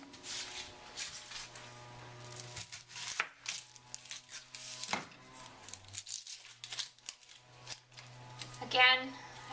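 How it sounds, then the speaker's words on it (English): A knife chops an onion on a cutting board in a series of irregular crisp cuts and taps, fairly close but quiet, with a voice speaking in the background between the strokes. "you cut your onion your way, I cut my onion my way"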